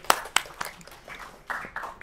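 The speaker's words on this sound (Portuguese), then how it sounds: "Palmas, palmas, palmas, palmas." A few scattered claps at a WordCamp Rio talk on Gutenberg custom blocks, sharp separate hand strikes spaced unevenly over a couple of seconds, fairly close, with a faint voice between them.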